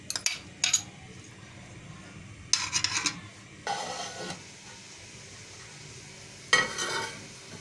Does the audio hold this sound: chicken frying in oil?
yes